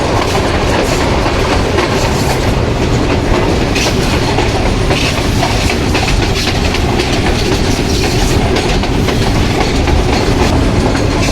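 The Millat Express pulling into Malakwal Junction in Pakistan: a loud, steady rumble of rolling wheels and clattering carriages, continuous and close, with no voices.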